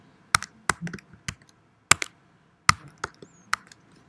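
Keys on a computer keyboard are typed in short irregular bursts, with crisp separate clacks and pauses between them, close to the listener and with no talk over them.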